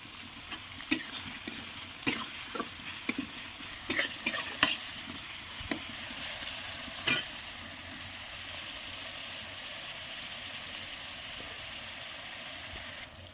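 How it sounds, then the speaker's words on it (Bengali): Onions with salt fry in a pan with a low, continuous sizzle, while a spatula scrapes and taps a few times early on before the frying settles into a quiet, even hiss. "লবণটা দিলে খুব তাড়াতাড়ি সিদ্ধ হয়ে আসবে, ভেজে যাবে"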